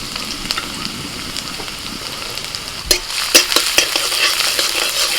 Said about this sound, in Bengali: আদা কুচি আর রসুন কুচিটা একদম হালকা করে ভেজে নিতে হবে